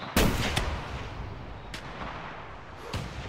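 Several sharp rifle reports in a hunting game, The Hunter Classic, while stalking a blacktail deer: a loud close shot near the start, another at about half a second, then two fainter cracks later over steady background ambience.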